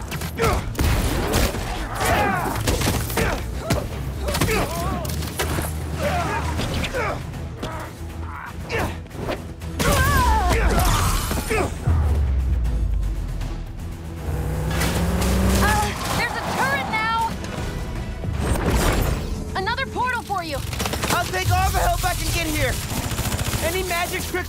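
Turret gunfire in Marvel's Spider-Man 2 on PS5: sustained rapid automatic fire and blasts continue throughout, mixed with engine rumble, under frequent shouted dialogue between characters.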